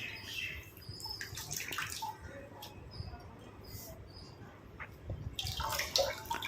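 Water squeezed by hand out of wet hibiscus flowers and leaves, giving irregular trickling, dripping and squelching close by, with small splashes clustered near the start and end.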